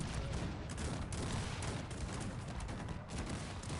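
In the Cossacks 3 strategy game, massed musket volleys and cannon fire make a dense, continuous crackle of overlapping gunshots and booms, loud and unbroken.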